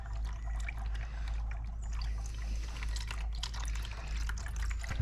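Engine oil pours steadily out of a KTM 1290 Super Adventure motorcycle during an oil change, a continuous close liquid trickle and splatter with faint dripping over low background rumble.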